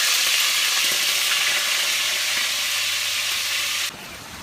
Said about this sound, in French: On fait cuire le morue.